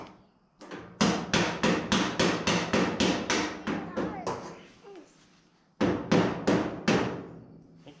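Rapid, loud hammer blows ring out on the bed floor of a 1929 roadster pickup, a burst of about a dozen evenly spaced strikes, a pause, then four more, with a brief spoken remark between.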